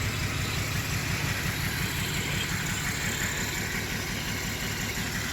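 A 1993 Holden VR Commodore automatic sedan engine idling steadily, a continuous low rumble with a fine rhythmic pulse, heard close and alone without any talk.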